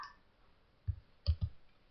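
Three sharp mouse clicks, one then a close pair, while working in e-Faktur tax invoice software on a computer, heard near and alone in a quiet room.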